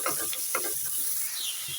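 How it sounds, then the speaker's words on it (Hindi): Chopped onion sautés in a pan for crepes-free pasta prep, a soft sizzle with a few quick stirring scrapes, brief and close. "यहाँ प्याज को भी हल्का सा हमने बस सोते करना"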